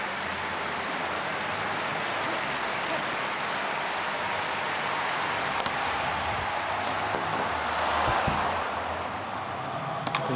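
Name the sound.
stadium crowd groaning at athletics meet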